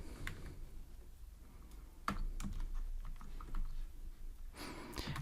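Code is typed on a computer keyboard as quiet, irregular key clicks come in short bursts, close and faint, with a louder flurry near the end and no speech.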